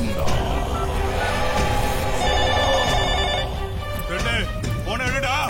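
A telephone rings in a film scene, heard as a warbling electronic tone over a dense music and effects soundtrack. The ring repeats toward the end and is partly masked by the busy background.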